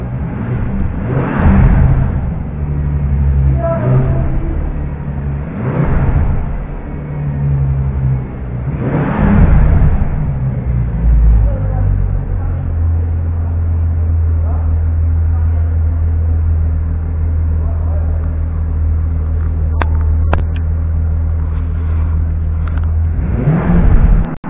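A Bentley Continental GT hybrid revs in several loud, deep swells close by, each rising and falling, before settling into a steady low idle rumble; someone speaks briefly over it.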